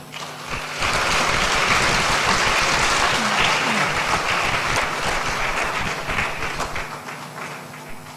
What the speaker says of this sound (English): Please let the applause be louder.